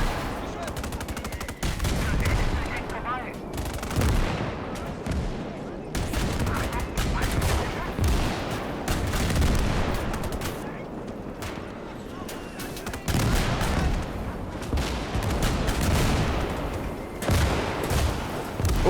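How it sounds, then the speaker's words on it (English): Rapid bursts of mech gunfire fill a video game battle, with heavy overlapping volleys and machine-gun rattles at full loudness almost without pause, punctuated by sharper cracks. "Oh, taking a lot of fire now."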